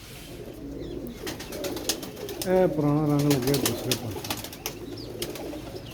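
Pigeons coo softly and repeatedly at close range as someone talks over them, with a brief louder burst of cooing in the middle.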